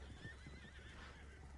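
Horses whinny and neigh in the Red Dead video game, a clear close neigh over steady low rumble with faint hoof clip-clop, lasting under two seconds with no talk.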